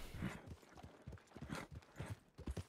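Horse hooves in a video game: a brisk run of rhythmic clip-clops, fairly close and clear, with steady repeated beats and no talking.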